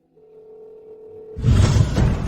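A phone sounds a steady electronic tone for about a second, then a burst of broadband noise cuts in loudly and runs to the end, marking a declined call.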